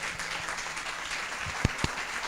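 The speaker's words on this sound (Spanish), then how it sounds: "podemos repetir el aplauso, Eugenio" Applause from an audience after a science talk, a steady wash of moderate clapping with a couple of louder nearby claps standing out toward the end.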